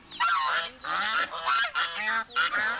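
A duck being hand-fed gives loud, close honking calls in quick repeated bursts, several overlapping squawks following one after another with only short gaps.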